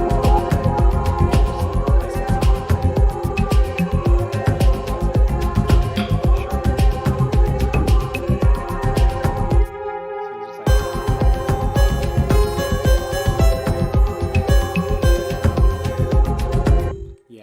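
A harp melody in the Spirit Mod video game mod comes out as dense repeating beeps over a loud, busy electronic music track, with a brief drop near the middle before it resumes; no one talks.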